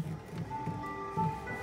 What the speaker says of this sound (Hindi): the moment I open the door it will give me the leaving message and the tone